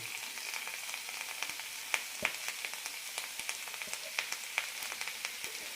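Half-cooked ash gourd with tomato and coconut is sautéed in a pan for chutney, producing a soft, steady sizzle dotted with quiet crackles and pops throughout.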